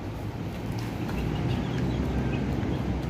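Pied Leghorn laying hens cluck and murmur together as a busy flock, with overlapping calls over a dense, steady barn din.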